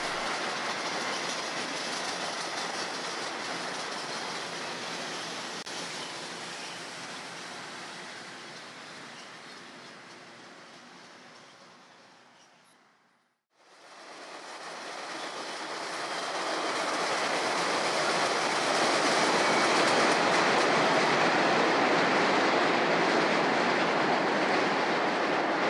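A Long Island Rail Road Budd M1 electric train, built in 1968, heads inbound for Penn Station, its loud rolling roar and wheel clatter fading briefly near the middle before swelling back strong.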